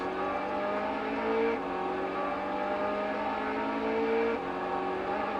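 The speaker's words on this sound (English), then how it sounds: "And then after that you start driving." Car engine from the Action Man A.T.O.M. PS2 video game, a steady droning hum that rises slowly in pitch and resets twice like gear shifts, continuous and close with no talk.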